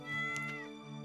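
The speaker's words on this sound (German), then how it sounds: "Siehst du diese Katze hier?" A cat in Stardew Valley gives a single clear, drawn-out meow lasting about a second, close and moderately loud with a rising then falling tone, heard on its own.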